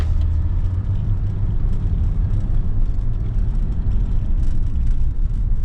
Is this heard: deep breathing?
no